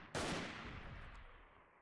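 Sniper gunfire sounds during a battle in the video game Freeman: Guerrilla Warfare. A single sharp shot cracks out and leaves a long rolling echo that slowly fades.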